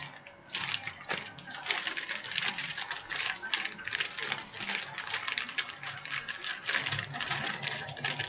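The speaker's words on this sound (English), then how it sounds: "if you take a quart bag and you fold it in half like that, and then you fold it again" A plastic quart bag is folded in half and then again, producing close, continuous crinkling and crackling rustles that persist throughout, with a voice speaking over them.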